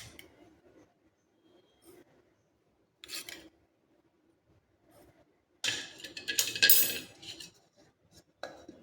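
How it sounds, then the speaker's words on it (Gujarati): A kitchen grinder whirs through split mustard seeds for a sweet-and-sour lemon pickle, a loud, rough grinding burst of about two seconds that follows a few quiet clinks and taps. "એ જ રીતે આપણે અહીંયા રાઈના કુરિયાને પણ 3 ચમચી પીસી લઈશું।"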